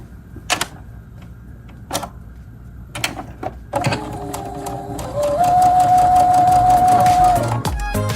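Sewing machine basting a pleated waistband at the seam allowance, starting after a few clicks and knocks, then running in a rising mechanical whir with a steady whine before stopping.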